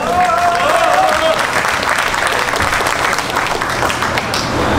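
Construction workers at an outdoor union rally give a loud, sustained round of applause, dense clapping holding steady for about five seconds, with a short whistle at the start and crowd murmur underneath.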